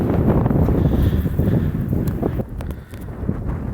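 Strong wind roars and buffets the microphone in a field during harrowing, a steady, heavy rumble that barely lets up, with no other clear sounds.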